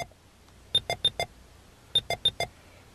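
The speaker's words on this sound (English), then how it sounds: "you hear the 3 beeps from the speakers" Two quick sets of four sharp electronic beeps from a car radio's speakers after the key is pulled out, evenly spaced, clear and close with quiet in between.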